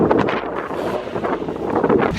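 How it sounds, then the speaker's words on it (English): Strong wind batters the microphone with continuous rumbling buffeting and gusty roar, loud and close throughout. "It's so windy right now, so you can probably hardly hear me."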